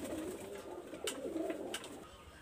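Pigeons from a breeding pair coo in soft, undulating phrases, fairly faint against a steady background hiss, with a couple of brief sharp clicks cutting through.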